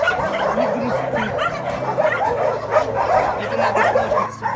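Several dogs at an animal shelter barking, yipping and whimpering in a busy overlapping chorus close by, with a person talking intermittently over the din.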